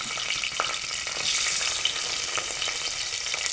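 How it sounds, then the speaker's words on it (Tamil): Fenugreek seeds frying in hot oil as a tempering for a Haputale-style meat curry, a steady dense crackling sizzle close up with small pops, heard alone. "வெந்தயத்தையும் நான் எண்ணெயில் போட்டுட்டேன்."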